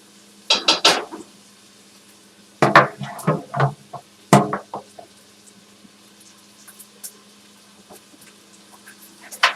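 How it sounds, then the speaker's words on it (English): Onion and mixed vegetables sautéed in a pan, heard as bursts of close clattering and scraping of utensil against pan in separate clusters, with quiet gaps and a few light taps between, no talking. "I really wanna saute them. Look at the onion. Saute the onion up."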